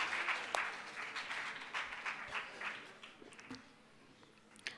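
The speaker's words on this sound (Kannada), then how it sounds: "ವೇದಿಕೆಯ ಮೇಲೆ ಜೋರಾದ ಚಪ್ಪಾಳೆಯೊಂದಿಗೆ ಸ್ವಾಗತಿಸೋಣ ಸುನೀಲ್ ಸರ್" An audience at a financial planning workshop applauds to welcome a speaker on stage, a dense burst of clapping that is loudest at first and thins out toward the end.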